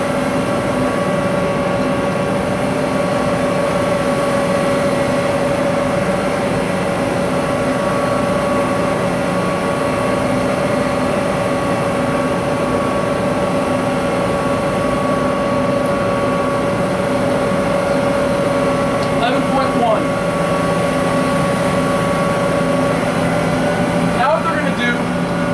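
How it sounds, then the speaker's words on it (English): A New Holland tractor engine runs under load, droning continuously at a constant pitch, loud and unbroken throughout, with faint voices occasionally underneath. "The key to this exercise is listen to the engine."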